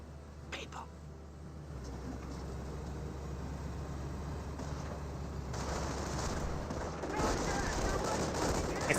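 Machine gun fire in a Company of Heroes 1 match, steady rattling bursts that build up over time and sit mostly under a commentator's continuous talk, with other battle noise around it.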